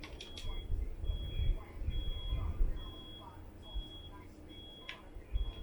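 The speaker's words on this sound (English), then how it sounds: "not sure what that beeping is." During a basketball video game, NBA 2K22, a thin, steady electronic beep repeats in short bursts, faint and high-pitched, behind a low background hum.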